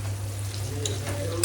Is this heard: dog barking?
no